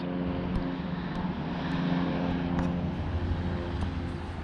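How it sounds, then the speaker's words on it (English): An airplane drones overhead near a train station in Dyer, Indiana, a steady low engine rumble that swells slightly and holds throughout. "I hear an airplane buzzing over my head."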